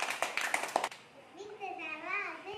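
Children clapping in a primary school classroom, a short scattered round of hand claps that stops after about a second, followed by someone speaking.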